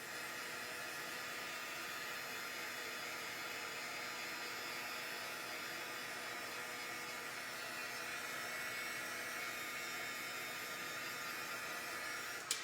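A craft heat tool blows steadily while melting embossing powder on a stamped card, a continuous airy whir with a faint motor hum, unbroken and evenly loud for the whole stretch.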